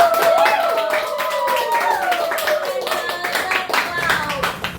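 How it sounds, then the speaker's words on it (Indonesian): A crowd claps and applauds steadily, loud and close, with rhythmic hand claps that taper slightly toward the end, while voices chatter over it at a talk show event in Pangkalpinang. "coba kita kasih tepuk tangan dulu dong"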